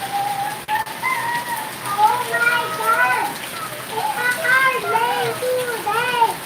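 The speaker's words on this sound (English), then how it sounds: "I mean, it's raining hard." Heavy rain pours down steadily in the Philippines as a dense, even hiss, while someone talks over it close by.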